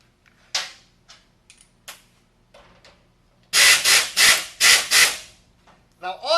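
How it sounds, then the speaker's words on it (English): A hub nut being tightened onto a Sanden compressor clutch pulley, heard first as a few sparse clicks and then as five loud, close rasping ratchet strokes in a steady rhythm. "So you push and put your hub down onto your pulley and you tighten this."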